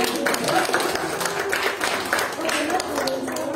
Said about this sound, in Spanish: Aplausos para Edison.